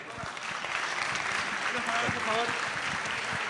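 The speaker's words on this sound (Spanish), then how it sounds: "quiero un aplauso para el Pómez" Applause from a crowd at a university tuna music competition's award ceremony, a steady broad wash of clapping under a voice that speaks over it throughout.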